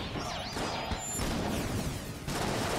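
Chaotic explosions and gunfire in the game Enter the Gungeon, dense crashing bursts layered with warbling effects and whooshes, loud and continuous throughout.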